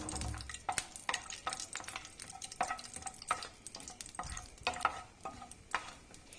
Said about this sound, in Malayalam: ആദ്യം നമുക്ക് കാഷ്നട്ട് ഒന്ന് വറുത്തെടുക്കാവേ.